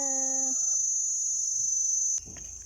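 A chicken lets out a drawn-out, tonal call that fades after about half a second, beside a coconut being split, under a steady insect drone, before a sudden burst of noise near the end.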